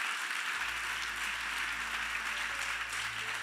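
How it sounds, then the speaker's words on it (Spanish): Congregation applause during a church service, a steady, moderately faint patter of many hands clapping, with a low organ or keyboard tone humming underneath. "Dale un fuerte aplauso al Señor."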